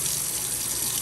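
Tap water runs in a steady, close gush while makeup brushes are washed at a sink, a continuous broadband rush with no talking.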